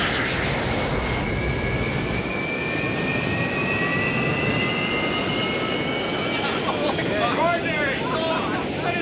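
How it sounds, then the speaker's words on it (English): A jet aircraft engine with its afterburner lit, in a 1997 film about the Avro Arrow, roars as a loud, steady, continuous blast that fills the clip, with brief voices near the end. "Get the afterburner."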